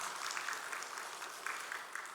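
A church congregation at a Wednesday prayer service applauding together, a soft, dense wash of many hands clapping at a distance, steady and sustained with a few slightly louder swells.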